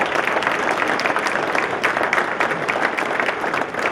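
A lunch crowd at an agriculture chamber event applauds the Farm Family of the Year, a loud, even, sustained clapping that fills the room without pause.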